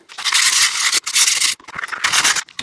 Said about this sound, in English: I'm going to go ahead and sand this here